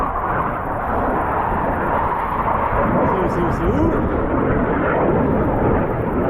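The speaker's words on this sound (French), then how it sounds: "Ah, petit avion. Attention." A small airplane passes over the hills above Gérardmer in the Vosges, a low broad droning rumble that holds steady throughout while a person briefly speaks over it.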